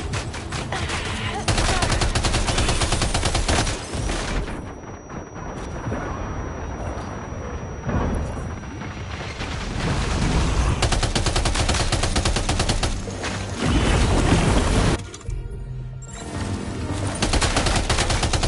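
Sustained gunfire and bursts of shooting in Death Stranding 2, loud and dense with rapid volleys over game music and effects, briefly thinning around the middle before resuming.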